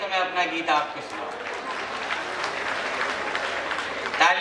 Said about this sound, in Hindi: एक बार अच्छी तालियां बजाइए तो मैं अपना गीत आपको सुनाऊँ।